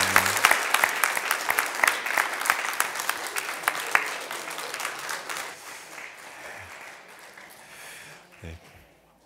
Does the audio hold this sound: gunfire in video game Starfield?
no